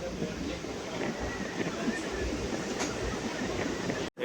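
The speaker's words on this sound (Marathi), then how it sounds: "हा जातो ट्रेन प्लॅटफॉर्म नंबरवरून. पण आलेली आहे पूर्ण भरलेली." A crowded Mumbai local train at a station platform gives off a steady, dense rumble and broadband roar for about four seconds, with faint crowd noise mixed in and a brief dropout near the end.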